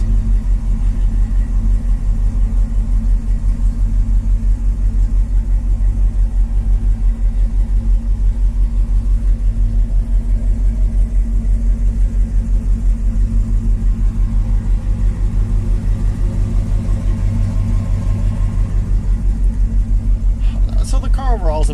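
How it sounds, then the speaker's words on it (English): Plymouth Barracuda engine idling steadily, a loud continuous low rumble with an even throb that holds throughout and never revs up. "it fires right up, and it just idles down so nicely"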